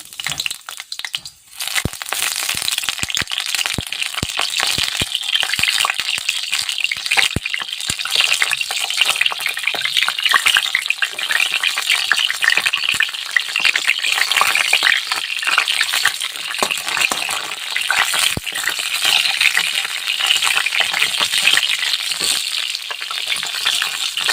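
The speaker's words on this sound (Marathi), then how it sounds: "आता याच्यामध्ये जे कारले आपण चिरले होते ते कारले थोडे तळून घेऊ" Chopped bitter gourd fries in hot oil in a kadai, a bright crackling sizzle with stirring scrapes that starts abruptly and stays loud and close throughout, with no talking.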